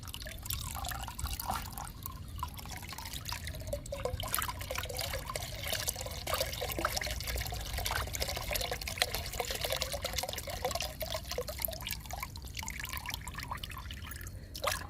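Liquid plant fertilizer made with peanut cake, tea powder, egg powder and lentils being strained into a bucket: a soft, steady trickle and dribble of liquid with small drips, faint and continuous for the whole stretch.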